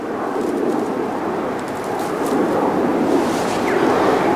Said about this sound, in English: I've taken shelter here because, as you can see, it is quite windy.